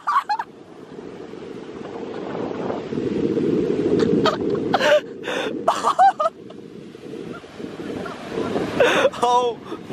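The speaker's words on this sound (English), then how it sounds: "here comes some big waves" Big ocean waves break and surge onto the shore in a steady, loud roar with strong wind buffeting the microphone, while short excited voices cut in near the middle and end.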